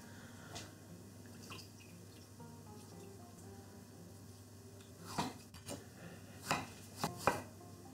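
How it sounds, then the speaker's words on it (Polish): A tomato, skinned after a quick dip in boiling water and then cold water, is sliced with a knife on a board. A few soft, spaced knife taps come in a quiet kitchen, with a tighter cluster of sharper cuts near the end. "Teraz czas na obranie i pokrojenie pomidora."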